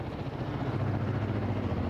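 Helicopters ferrying tents, food and medical supplies at an air base for Kashmir relief produce a steady, fairly distant rotor drone with a low rumble, continuous and unbroken throughout.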